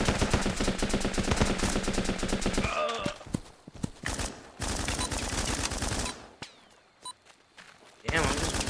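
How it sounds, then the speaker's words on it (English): Rapid gunfire rattles through a Running With Rifles match, first a dense continuous burst of shots, then scattered bursts and single cracks at varying distances over a quieter background, with a final volley closing out. "Damn, I'm just running past all these fucking bullets."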